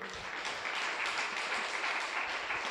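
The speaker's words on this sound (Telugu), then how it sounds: "అర్థమైనోడు చప్పట్లు కొట్టండి." A church congregation gives steady, dense applause during a sermon on Our Lady of the Rosary, a continuous clatter of many hands at moderate distance without speech.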